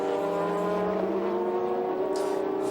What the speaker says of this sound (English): 500 horsepower pushing out from the Toyota V8 underneath the Lexus SC430 hood.